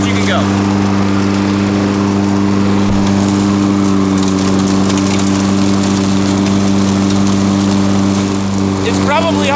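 A new lawn mower running fast over a yard and sucking up leaves: a loud, steady mid-pitched engine drone, close and constant for the whole stretch.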